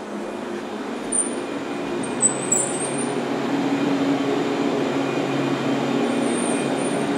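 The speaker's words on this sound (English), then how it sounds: "These are pretty fast elevators." Fast hotel elevator in motion, a steady low hum and rumble with faint high whistling and a couple of small knocks, close and continuous throughout.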